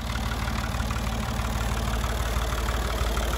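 An old farm tractor engine idles with a steady, loud, low rumble and a rapid chugging pulse throughout, with no talking.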